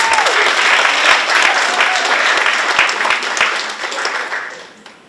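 Loud, full audience applause with cheering-like crowd noise at a live storytelling night, sustained clapping from many people that gradually tapers off near the end.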